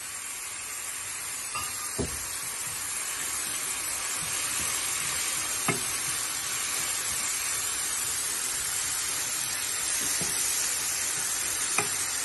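Onion and carrots sautéing in a pan with salt, a steady hissing sizzle throughout, broken by a few sharp scrapes of a utensil stirring.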